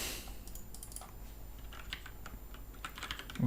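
Quick, light keystrokes on a Cherry mechanical computer keyboard, clattering in an irregular rhythm for a few seconds, close but fairly quiet, with no speech.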